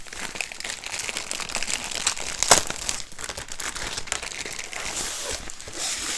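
A plastic bag holding a diamond art canvas crinkles and rustles continuously up close, with a brief sharper crackle partway through.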